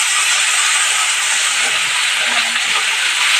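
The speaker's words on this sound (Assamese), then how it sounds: "এতিয়া কোমোৰাটো ভাজি উঠাম" Pumpkin frying in a pan for a home-cooked meal, giving a steady, loud sizzling hiss throughout with no talking.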